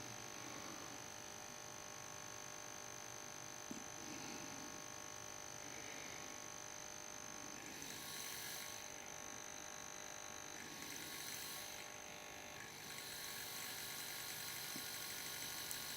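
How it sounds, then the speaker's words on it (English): A PWM speed-controlled electric motor runs with a steady, buzzing electric hum that holds fairly even throughout, with a few brief hissy swells partway through and no talking. "If you hear that motor's running"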